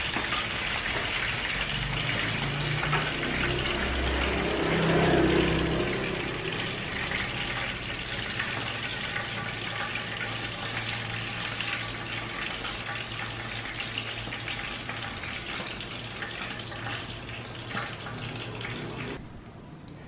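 Beef rolls wrapped in lolot leaves fry in hot oil, giving a steady, fairly faint sizzling hiss that runs almost unbroken for about twenty seconds before cutting off abruptly.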